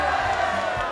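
A studio audience in a TV variety show cheers and whoops with delight, a dense loud burst of crowd voices filling the short moment.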